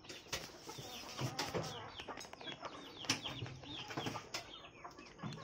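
Chickens rest on a goat farm in daytime, with soft, faint clucks and occasional wing flutters spread across a quiet, distant barnyard.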